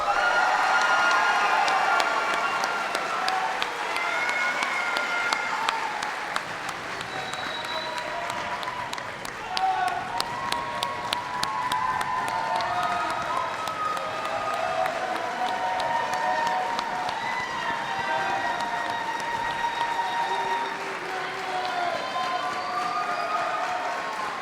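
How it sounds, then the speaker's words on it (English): A seated audience at a spring military commissioning ceremony applauds newly commissioned second lieutenants, sustained dense clapping at moderate distance with scattered cheers, gradually thinning toward the end. "please join us in one last round of applause for our newest second lieutenants."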